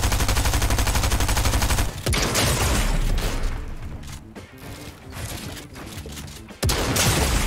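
Shotgun fire in a first-person video game shooter, loud dense blasts mixed with other game gunfire and crashing effects, easing off midway before a sharp burst returns near the end.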